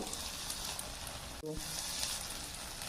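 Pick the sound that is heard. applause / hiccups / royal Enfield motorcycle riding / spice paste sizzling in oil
spice paste sizzling in oil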